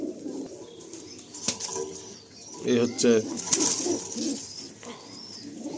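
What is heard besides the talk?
pigeons cooing and flapping wings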